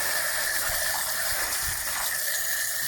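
Water from a garden hose sprays and gushes steadily, with a constant hissing wash that fills the whole moment at an even level, while soft low thumps sit underneath.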